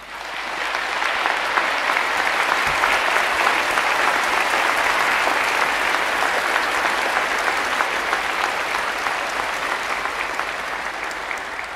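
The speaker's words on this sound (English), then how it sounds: "Please give them a huge round of applause." Large crowd at a university commemoration ceremony applauding Imperial staff, a broad, even wash of hundreds of hands clapping, sustained steadily for about twelve seconds and easing slightly near the end.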